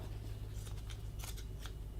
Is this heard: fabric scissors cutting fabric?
yes